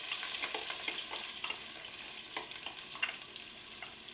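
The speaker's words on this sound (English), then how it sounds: "Saute your onions until they are translucent, and that will take a few minutes." Onions sizzle and crackle in hot oil in a pan at the start of a pasta and bean soup, a steady close frying hiss with small pops and occasional stirring clicks, no voices.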